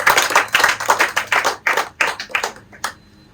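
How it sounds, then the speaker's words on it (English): A parliamentary debate audience claps in bursts of uneven, overlapping hand claps that fade out near the end, loud and close. "Please clap."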